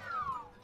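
Meowth from the Pokémon Snap video game gives a short, quiet descending cry like a cat's meow, a single brief call that fades quickly.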